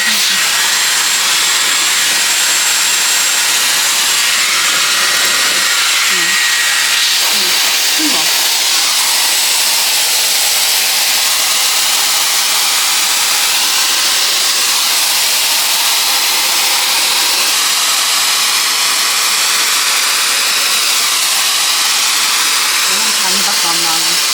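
A Dyson Airwrap hair styler blows a steady, loud rush of air while drying hair, holding as one continuous hiss for the whole stretch with small shifts in tone as it moves.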